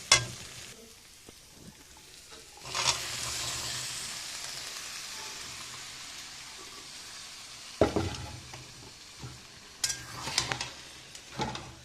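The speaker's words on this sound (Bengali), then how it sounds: "দেখুন কত সুন্দর তেল ছেড়েছে মশলা থেকে একটু নেড়ে চড়ে নিয়ে" Spice masala sizzling in a small amount of oil in a pan for ghughni, a steady close frying crackle broken by several bursts of scraping and stirring against the pan.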